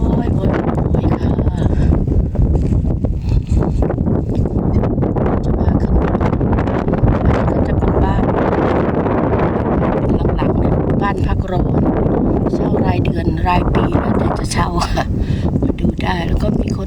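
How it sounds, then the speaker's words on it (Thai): Steady, strong wind buffets the microphone at Ängelholm harbour at night, a constant rough roar throughout with faint rustling and clatter, and a person talks under it. "ลมเย็นมาก"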